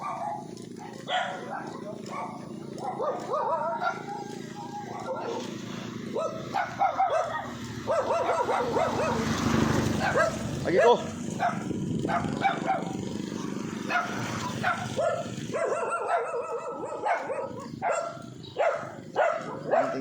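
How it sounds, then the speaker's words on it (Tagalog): Several dogs bark repeatedly at a distance among outdoor street noise, with a person talking briefly nearby. "Ang dami ang aso."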